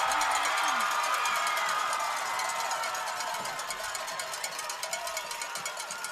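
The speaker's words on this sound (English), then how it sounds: "And just listen to this crowd." A high school football crowd in the stands roars and cheers loudly as the game nears the goal line, a dense sustained wash of voices with scattered whoops that eases slightly toward the end.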